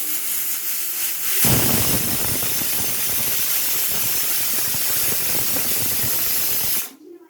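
A pressure cooker on a lit stove lets out one long, loud, steady whistle of escaping steam. The hiss starts abruptly, holds for about five seconds and then cuts off, with no talking over it.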